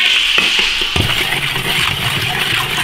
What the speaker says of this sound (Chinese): 少油点油，炒糖色